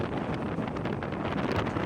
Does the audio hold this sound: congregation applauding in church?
no